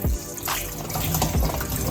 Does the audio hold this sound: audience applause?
no